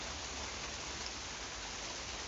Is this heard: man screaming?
no